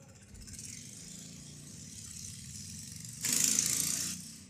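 A motorcycle engine runs with a rattling mid-pitched drone that swells louder for about a second as it passes close by, then eases back to a steady background hum.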